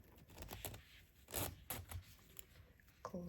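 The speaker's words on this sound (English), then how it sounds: "So let's try the zipper now." A zipper on a crocheted clutch is pulled closed and opened again, giving faint, short ratcheting rasps and soft handling rustles close by in a quiet room.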